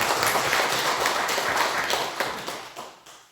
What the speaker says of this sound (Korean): 우리 박수로 한번 환영해 주실까요?